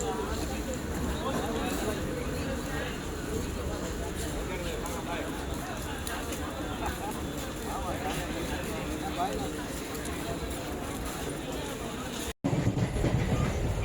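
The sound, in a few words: passenger train running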